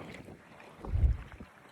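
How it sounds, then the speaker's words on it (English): Strong outdoor wind buffeting an iPhone 17 Pro microphone, a low muffled rumble that swells into one loud gust before easing off. "This is me testing the wind reduction because it's very windy right now"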